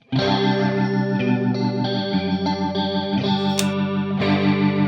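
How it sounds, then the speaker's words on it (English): Sustained electric guitar chords through a Marshall JTM45-style amp tone alone through a rotary speaker effect, with a warbling, swirling, organ-like wobble throughout, loud and close. "And then rotary."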